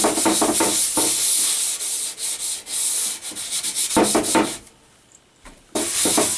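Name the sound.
scrubbing dirt off the back of a cabinet with a scrubber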